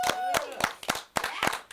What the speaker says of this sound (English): if my assistant, Nasty, if you could give him a round of applause, please.